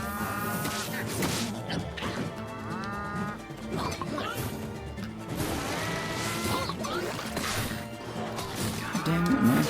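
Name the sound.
cow mooing in video game Town of Zoz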